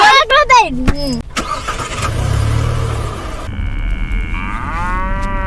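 A cow moos in a rural village in Kelantan, heard from a car as the engine revs and people talk nearby.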